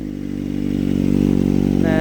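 A Kawasaki ZX-25R motorcycle engine revs up close, its throaty pulsing growl building in loudness and pitch over a couple of seconds.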